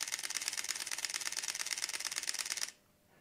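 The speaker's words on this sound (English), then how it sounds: "let me show you what the shutter sounds like when I'm shooting at 12 frames per second" A Panasonic Lumix G9 mirrorless camera fires its mechanical shutter in a rapid burst at 12 frames per second, a steady, close, evenly spaced clatter lasting over two seconds before stopping abruptly.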